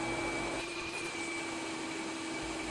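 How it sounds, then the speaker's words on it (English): A vacuum cleaner fitted with special dust filters runs steadily while sucking up construction dust during a basement demolition, a loud continuous motor whine with a sustained tonal hum throughout. "use a vacuum with special filters to get rid of all this dust"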